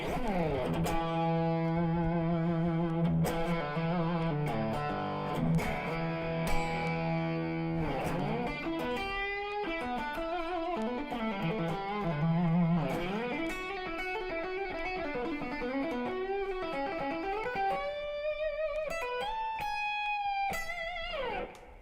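Distorted electric guitar played through a Blackstar amp with channel volume and distortion all the way up, with sustained notes, bends and quick runs, loud and gritty throughout with no talking.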